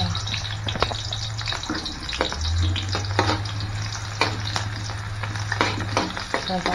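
Garlic and onion sautéing in a pan give a continuous close sizzle, with repeated scrapes and clacks of a spatula stirring and a low steady hum underneath.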